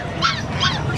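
A turkey at a pet market gives two loud, close honking calls in quick succession within a second, with no talk over them.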